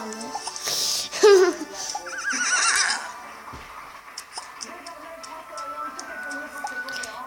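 A horse whinnies loudly and shrilly, followed by softer tonal sounds and light clicking in the background.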